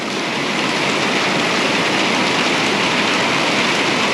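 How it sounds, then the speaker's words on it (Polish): Heavy rain pours down steadily outside a hotel in Indonesia, a dense, loud, unbroken hiss with no gaps and no voices. "zobaczcie, jak teraz leje"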